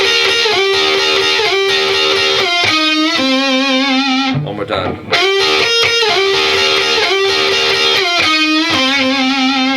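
Distorted electric guitar playing a lick, with slides into held notes and vibrato, repeated twice with a short pause where a voice briefly speaks.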